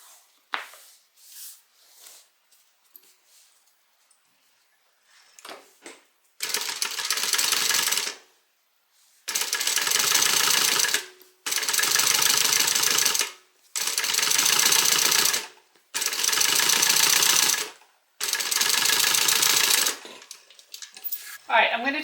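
A sewing machine top stitching a Lusso hobo shoulder bag runs in six steady bursts of a couple of seconds each, close and loud, separated by short pauses, with a few soft handling clicks at the start.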